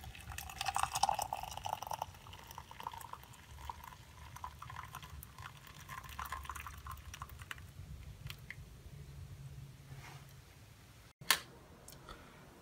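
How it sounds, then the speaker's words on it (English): Homemade masala chai pours through a strainer into a cup as a steady, soft liquid rush that runs for several seconds, then thins out and ends with a sharp click near the end. "We're going to use a strainer to pour ourselves a nice cup of tea."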